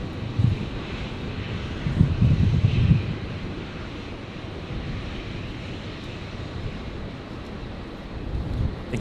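A320 airliner on a mile final to runway 19 left at Brisbane Airport, a steady low jet roar with rumbling swells near the start and end, softened by wind noise on the microphone.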